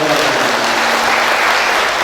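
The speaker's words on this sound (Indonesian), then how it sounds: "Tepuk tangan untuk ibu-ibu dulu yang" Dense, steady applause from an audience of mothers at an Indonesian school curriculum workshop, loud and continuous throughout with no break.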